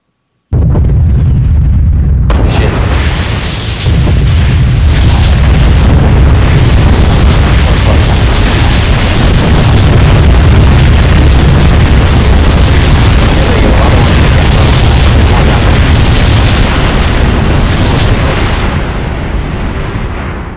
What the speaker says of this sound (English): Those rockets spinning out of control there will blow up eventually.